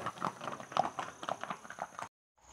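Small horses' hooves clip-clop briskly and close on a path at the Matheran hill station, a quick uneven run of knocks that stops abruptly, followed by faint ambient noise.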